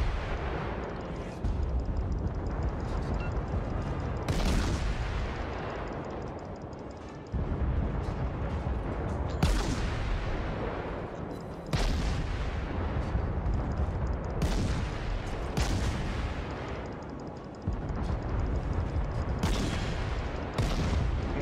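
Naval guns firing in World of Warships, repeated heavy booms roughly every two to three seconds over a constant loud rumble of battle, close and forceful with no talk over them.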